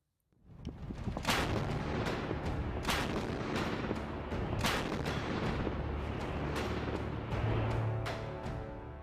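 Repeated heavy booms from Dhanush artillery guns, an upgraded Bofors howitzer, firing at irregular intervals with sharp cracks and rolling rumbles between them, loud and reverberant throughout.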